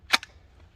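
A single Ruger SFAR rifle shot sounds as one sharp distant crack, followed moments later by a fainter ping from a steel target being hit, then quiet.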